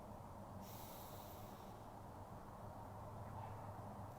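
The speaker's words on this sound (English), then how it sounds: "Take a deep breath in." A slow, deep breath drawn in and then released, faint and close, the soft airy inhale and exhale heard alone against a low hiss of room noise.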